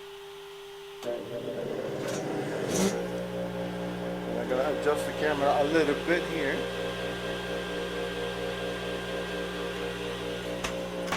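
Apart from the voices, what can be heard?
vacuum running on CNC machine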